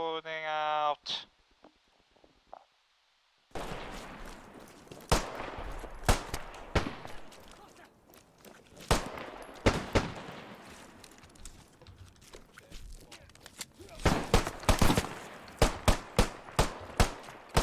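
Gunfire in the multiplayer war shooter Beyond The Wire, with a mix of single rifle cracks and rapid automatic bursts, some near and some distant, after a brief musical tone and a moment of silence.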